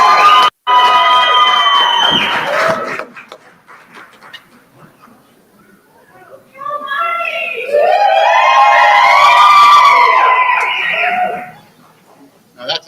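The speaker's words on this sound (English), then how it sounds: "Now that's a cheering section" An audience at a medical school white coat ceremony whoops and cheers for a graduate. A brief loud burst comes first, then after a lull a louder swell of high-pitched shouting holds for several seconds before cutting off.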